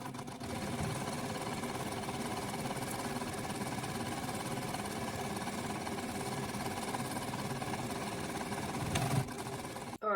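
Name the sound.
sewing machine stitching a pillow cover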